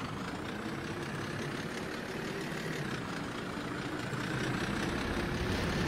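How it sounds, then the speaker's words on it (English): Rickety old bus driving through a Cities In Motion 2 game city, a steady droning engine hum that holds level throughout, fairly close and alone without voices. "With a rickety old bus going that way."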